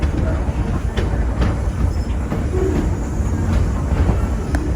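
Steady rumble of a train rolling along the rails, with faint rhythmic clatter and occasional high squeaks, continuous throughout.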